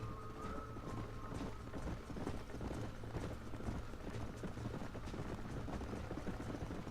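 Horse hooves clip-clopping in the video game Red Dead Redemption, a steady rapid rhythm of hoofbeats at moderate volume under faint background ambience.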